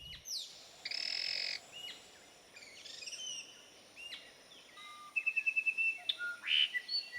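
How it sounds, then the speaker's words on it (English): Birds sing in the Pantanal wetland of Brazil, a mix of bright whistled phrases, chirps and a rapid repeated trill, clear and close over a quiet background of faint insects. "Some birds attract their mates with a song."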